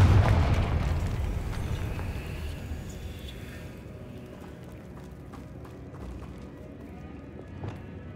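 A Confringo fire spell from Hogwarts Legacy detonates loudly at the start, then a rumbling, crackling burn dies away over several seconds, with a few faint thuds and a small pop near the end.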